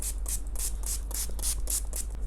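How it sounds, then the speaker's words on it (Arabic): Pretty Woman fixing spray misted onto a made-up face, a series of about eight short airy hissing bursts in steady rhythm, close and fairly loud over a low hum. "هاخد بعد كده الفيكس سبراي ده من بريتي وومن"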